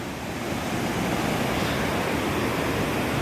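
Jogani waterfall near Manali, a small waterfall, roars as a loud steady rush of falling water close by, with some wind buffeting the microphone and no talking.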